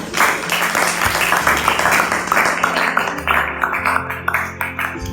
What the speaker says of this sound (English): Give the Lord a clap of it.